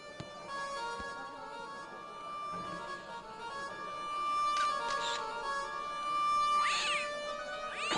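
In the adventure game Broken Sword, an ugly brute of a cat gives a couple of drawn-out meows near the end, clear against a quiet backdrop with a steady tonal hum.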